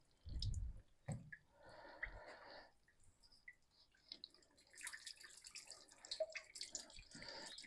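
Fluid drains and drips out of a John Deere 5010 tractor during a service, faint and close, with irregular trickling and splatter that build toward a steadier patter near the end.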